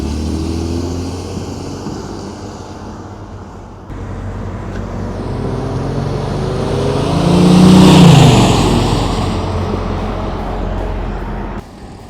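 A 1996 Ford F150 XLT pickup truck makes a flyby, its engine swelling louder as it approaches, peaking up close, then fading away against outdoor background noise.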